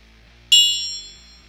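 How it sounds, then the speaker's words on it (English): A single gong struck once with a sharp onset, its bright metallic shimmer ringing and slowly decaying over about a second in an otherwise quiet room. "That was the first time I've ever hit that gong."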